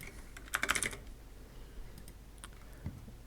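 A short burst of keystrokes on a computer keyboard, a quick cluster of clicks near the start followed by a few scattered taps, close and fairly quiet against faint room noise.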